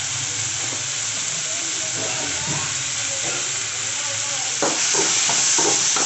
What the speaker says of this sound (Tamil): வெங்காயம் தக்காளி சீக்கிரமாக வதங்கிட்டு நம்ம சிறிதளவு உப்பு போட்டுக்கலாம்.